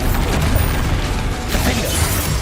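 Confringo and Bombarda spell blasts in the Hogwarts Legacy video game: a dense, loud stretch of rumbling impacts, crackling bursts and clattering debris with no clear gaps.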